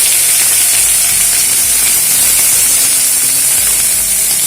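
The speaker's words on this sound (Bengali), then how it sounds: "কুচনো পেঁয়াজগুলো এর মধ্যে দিয়ে দিচ্ছি।" Chopped onions and a whole dried red chilli fry in hot mustard oil for Bengali village cooking, a loud, continuous hissing sizzle with no voices.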